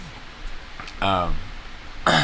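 A voiced throat-clearing cough, then a second rough burst of coughing at the end, close to the microphone.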